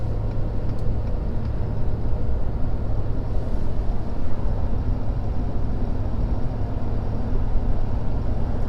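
Ford Powerstroke diesel pickup truck accelerating at highway speed, a steady broadband engine and road rumble heard from inside the cab, continuous and fairly loud with no talk.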